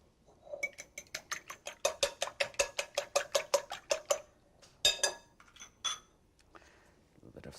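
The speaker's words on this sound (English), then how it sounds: "Let me just whisk the eggs before I do that." Eggs whisked in a bowl: a fast, steady run of bright metallic clinks, about four per second, then a few slower, scattered taps as the whisking stops.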